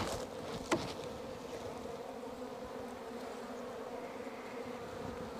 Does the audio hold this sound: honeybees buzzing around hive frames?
yes